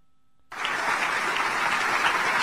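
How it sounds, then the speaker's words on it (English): After a brief silence, an audience bursts into loud, sustained applause that continues evenly to the end. "They start clapping"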